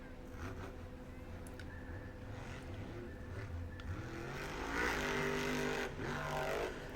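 Monster truck engine at a Monster Jam stadium event in Jacksonville, a loud sustained roar with harmonic drone that swells and revs harder near the end, heard amid crowd and arena noise.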